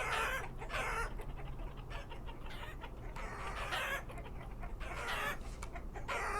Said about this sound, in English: I thought I heard multiple roosters making the rooster noise